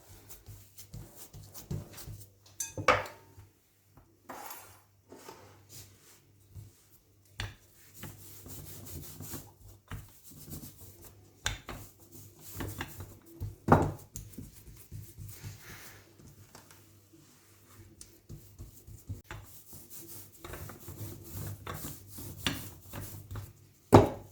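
Semolina harcha dough is pressed and shaped by hand on a work surface, giving soft intermittent rubbing, patting and scraping sounds with quiet gaps, up close and without talk.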